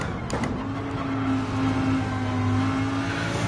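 Race car engine in Gran Turismo 7 holding a steady droning tone while the car rumbles over track curbs, a few sharp knocks early on, loud and continuous throughout.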